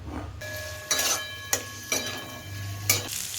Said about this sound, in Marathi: एका कढईमध्ये एक मोठा चमचा तेल मोठा चिरून घेतलेला कांदा टाकायचा आणि तो लालसर भाजून घ्यायचा